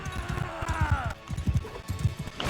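A horse gallops in Mount and Blade II: Bannerlord, with rapid rhythmic hoofbeats pounding steadily and fairly loud under a voice talking, the gait briefly breaking before picking up again.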